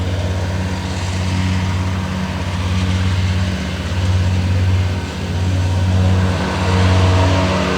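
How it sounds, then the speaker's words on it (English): A lawn mower engine drones steadily throughout, loud and continuous with slow swells in level, during an outdoor gathering by oak trees. "Sorry about the mower, can't do anything about that."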